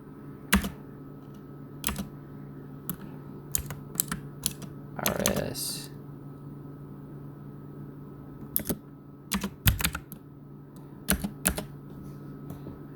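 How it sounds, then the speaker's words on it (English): Keys on a computer keyboard click in short sparse bursts, several quick taps with pauses between them, close and crisp over a low steady room hum. "if you type in RSAO"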